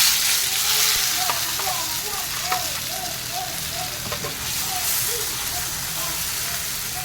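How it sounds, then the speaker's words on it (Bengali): Potatoes fry in hot oil in a kadai for potol dorma, giving a close, bubbling sizzle with intermittent stirring and scraping sounds throughout. "এবার আলুটা দিয়ে দেবো গরম তেলে।"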